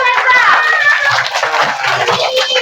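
Children at a school and madrasa fair clap for a first-prize winner, a steady burst of many small hands lasting a couple of seconds, close and lively.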